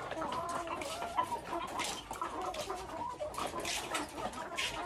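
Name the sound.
chickens clucking on a farm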